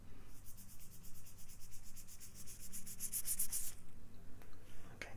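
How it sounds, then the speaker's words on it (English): Fingers rubbing together close to the ears during an ASMR cranial nerve exam: soft, quiet, steady scratchy friction with a faint rhythmic pulse, very intimate and near, with no speech. "did it get louder as I brought the fingers in close to your ears?"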